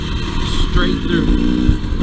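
A Yamaha YZ250X or KTM 300 XC-W dirt bike drones and revs close by on a trail ride, its engine loud and continuous under people talking.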